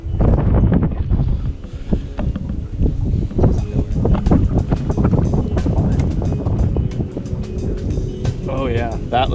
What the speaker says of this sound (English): Gusts of wind.